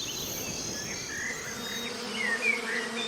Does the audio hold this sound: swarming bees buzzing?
yes